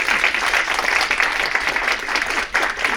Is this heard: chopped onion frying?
no